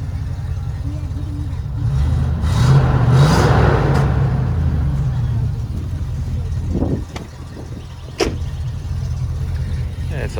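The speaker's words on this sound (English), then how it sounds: "I'll give her a little bit of a rev for you." A used 4WD's engine idles steadily, then a brief rev swells and fades before settling back to a low idle, heard up close with a few light knocks and clicks near the end.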